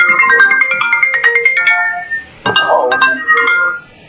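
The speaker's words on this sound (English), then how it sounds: "whose phone is that?" A mobile phone ringtone plays loud and close, a bright repeating electronic melody that pauses briefly and then resumes, with a short spoken exclamation over it.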